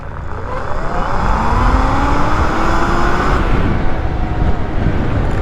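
A 72V Sur-Ron electric dirt bike accelerating hard in a 0 to 30 test, a loud rising electric motor whine sweeping upward in pitch over rushing wind and road noise, close and continuous with no voices.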